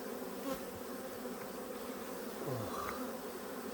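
Honey bees swarm around an open hive as its frames are lifted and inspected, a dense continuous buzz close to the microphone with individual bees droning past now and then.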